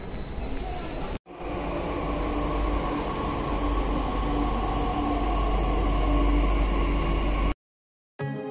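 Steady rumbling drone of a Delhi metro train in motion near Barakhamba Road, with a constant low roar and hum, interrupted by two brief cuts to silence.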